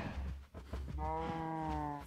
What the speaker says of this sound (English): Defiant cows.